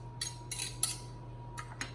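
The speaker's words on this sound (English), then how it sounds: "since I have a pastry blender, I'm gonna go ahead and use my pastry blender." A pastry blender cuts butter into flour in a bowl for raspberry white chocolate scones, giving a few short scraping, clinking strokes, close and quiet over a low steady hum.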